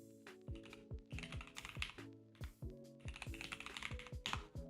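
Rapid keystrokes on a computer keyboard while entering a root password during a FreeBSD setup, quick bursts of close, crisp clicks with short pauses, no speech.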